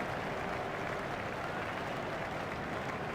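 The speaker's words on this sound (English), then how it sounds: "He deserves the applaud from the crowd today" Steady crowd applause in the EA Sports Cricket 07 video game during an England vs New Zealand match, a dense, even wash of clapping that holds at the same level throughout without a break.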